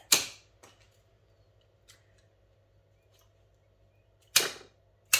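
Flower stems for a bouquet snipped on an angle, a few sharp isolated cutting snaps, one at the start and two near the end, with faint ticks between over a quiet room hum.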